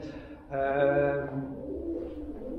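A pigeon coos once nearby, a soft throaty warble over quiet background noise.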